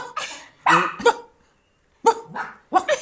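A dog barks in several separate bursts, loud and close, with short gaps of quiet between them and no talking over the barks.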